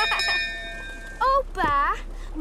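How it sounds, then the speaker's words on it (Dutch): A bell rung in a Peppa Pig cartoon gives a sustained, ringing tone that fades over about a second, followed by animated voices talking. "Peppa, luid de bel."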